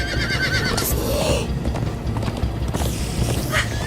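Horses in the Minecraft Story Mode video game whinny loudly and repeatedly over steady galloping clip-clop hooves, with dense game music and effects throughout.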